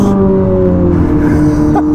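A Ferrari SF90 with Novitec tuning and carbon accessories pulls hard out of a corner, its engine a loud, close, steady tonal drone under heavy throttle.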